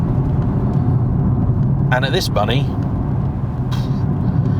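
Low, steady engine rumble and road drone from a Nissan 370Z sports car on the move, held at an even level underneath someone talking for most of the stretch.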